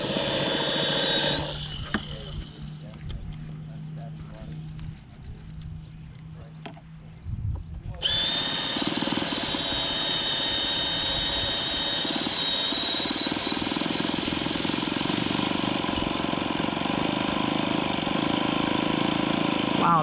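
Small motor on a Grumman Skyrocket model plane fires up after a few sputters, then runs at a steady, fairly quiet drone close by, with a person talking over it.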